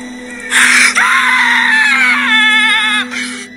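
A loud, sustained scream from a man, close and strained, holding for about two and a half seconds before breaking off, over a low steady hum.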